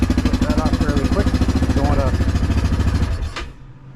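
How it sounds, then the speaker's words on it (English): A Yamaha Grizzly 700 ATV on its stock exhaust idles with a steady, moderately loud rumble, heard up close. Talking runs over it, and the engine sound cuts away near the end. "That's the stock exhaust there. Not crazy loud."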